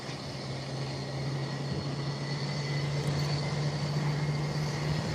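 A fixed-wing aircraft on a short takeoff and fast climb, heard as a steady droning engine tone with a broad roar that swells slightly as it goes on, fairly faint and distant.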